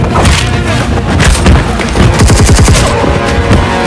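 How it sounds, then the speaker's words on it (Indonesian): Dense gunfire in an Indian action film: rapid bursts of shots and heavy booms pounding continuously and loud, layered over a thick, busy soundtrack mix. "Satu persatu anak buah Prakas ditembak mati oleh Fateh sambil terus masuk ke ruangan di mana Prakas berada"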